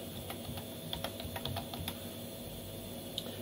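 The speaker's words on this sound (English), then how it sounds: "Type in our password" Someone types a password on a computer keyboard at a Linux terminal: quick, irregular keystroke clicks, fairly faint, over a steady background hum.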